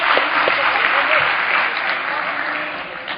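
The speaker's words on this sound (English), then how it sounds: "I'd like to have a round of applause to all of them" A conference audience breaks into brisk, sustained clapping, a broad even patter that fills the room briefly before fading slightly.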